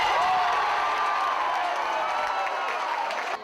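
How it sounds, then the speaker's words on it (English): A university crowd of UWM students roars and cheers loudly and continuously, a dense wall of shouting and clapping that holds steady throughout before easing slightly at the end. "the UWM crowd roared just as loud as them too"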